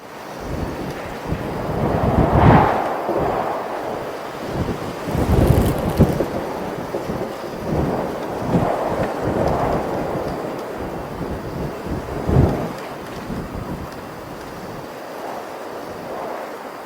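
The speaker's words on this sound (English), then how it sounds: "How about stormy wind gusts?" Stormy wind gusts roar and swell in repeated surges, a dense rushing noise with deep rumbling bursts and no voices.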